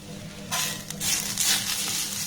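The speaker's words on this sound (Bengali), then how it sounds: "প্রথমে এই নারকেল কুড়োটাকে একটু নাড়াচাড়া করে ভেজে নেব" Grated coconut stirred and fried on a low flame, a quiet start that gives way to a steady hissing sizzle with a scrape or two of a spoon, close and alone.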